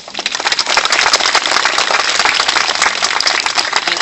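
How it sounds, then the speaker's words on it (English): An audience claps for students and teachers during a school speech, a loud, dense and steady wash of many hands that fills the whole stretch without any talking. "A round of applause for them,"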